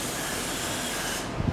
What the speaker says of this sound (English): Let's spray some brake clean in these.